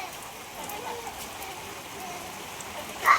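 Steady soft rain patters in a continuous hiss, with a brief louder knock near the end.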